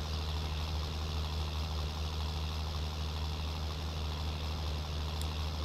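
A tractor engine in Farming Simulator 19 runs steadily while pulling a chisel plow through a field, a constant loud low-pitched drone with a steady hum and no pauses or speech.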